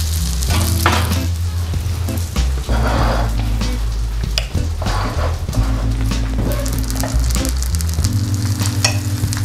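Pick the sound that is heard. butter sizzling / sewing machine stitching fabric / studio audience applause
butter sizzling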